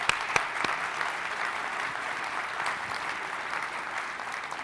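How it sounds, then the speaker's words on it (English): A conference audience at the CMS Quality Conference 2025 gives a steady round of applause, an even wash of many hands clapping at moderate distance, with a couple of sharper claps near the start. "Please give him one more round of applause."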